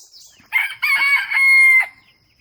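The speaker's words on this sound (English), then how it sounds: "he's got turkeys over here" A farm bird calls out loudly and close by in a series of harsh, drawn-out cries, with a brief pause after the first note and the longest cry at the end, and no one talking.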